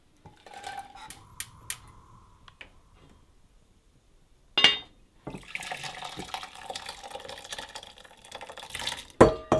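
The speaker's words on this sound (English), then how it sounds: "We're gonna get them in this pot, add some water" Water is poured into a pot of rose hips, with quiet handling clicks at first and then a louder, steady splash and trickle of running liquid, close by.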